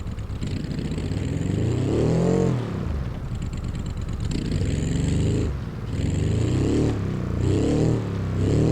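A damaged Autobello Piccolina car engine in a driving video game, starved of oil and overheating, revs loudly with a rough, clattering drone that surges and dips in several bursts with brief lulls.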